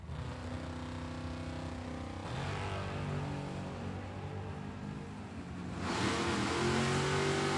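Drag racing cars at a Super Pro event, a Chevrolet Nova in the right lane against a Chevelle in the left, roar in sustained engine tones that climb in pitch and swell louder near the end.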